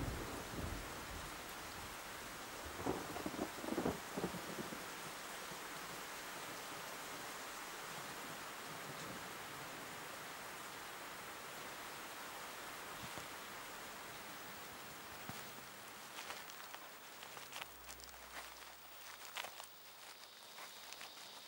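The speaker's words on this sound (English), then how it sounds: "For a brief period, the deluge puts a damper on jungle activity." Heavy rainstorm in a jungle, a dense steady hiss of downpour with a few thunder rumbles and cracks rolling through, continuous and enveloping with no voices.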